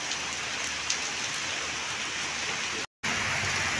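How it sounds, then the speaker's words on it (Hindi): Heavy rain pouring down outdoors near a hotel, a dense, steady hiss of drops on surfaces that holds loud and even, cut off by a brief silent gap before resuming. "बारिश बहुत तेज़ आ रही है"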